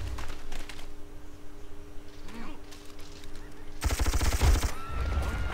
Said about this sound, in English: They're shooting civilians with machine guns. You can almost hear them.